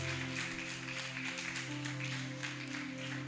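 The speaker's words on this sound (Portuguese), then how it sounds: "Você pode aplaudir o nome do Senhor?" A church congregation applauding during a sermon, scattered clapping over a held organ or keyboard chord that shifts pitch midway, fairly soft and steady.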